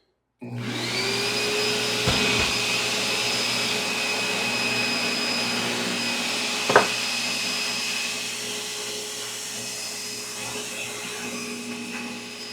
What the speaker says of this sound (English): let's polish this stem up